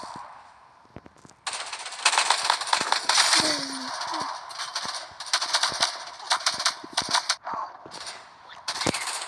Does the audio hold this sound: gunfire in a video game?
yes